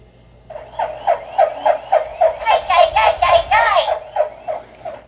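A playful electronic sound from a jammed Power Rangers morpher toy chirps in a rapid, rhythmic series of bright pulses that grow denser and louder midway, then trail off; no speech.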